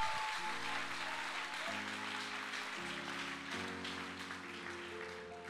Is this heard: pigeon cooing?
no